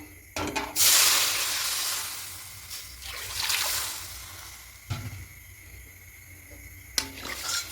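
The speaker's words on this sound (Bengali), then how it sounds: "এবার এই কড়াইয়ের মধ্যে জল দিয়ে দেবো" Water hits a hot wok still coated with coconut filling, bursting into a loud hissing spray that fades, followed by further hiss surges and a couple of knocks.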